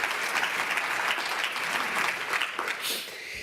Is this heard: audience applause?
yes